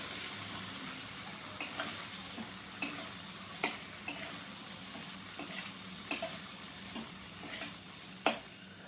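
Ridge gourd mixed with poppy seed paste and chilli powder in a frying pan: a steady sizzle with repeated spatula scrapes and clinks against the pan at an uneven rhythm, close and fairly quiet, no talking.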